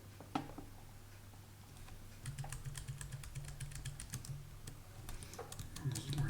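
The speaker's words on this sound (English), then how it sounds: "I'll try to type it." Typing on a computer keyboard, a quiet run of rapid, irregular key clicks that starts after a brief pause and continues steadily through to the end.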